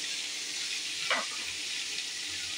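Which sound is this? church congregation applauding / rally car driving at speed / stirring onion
stirring onion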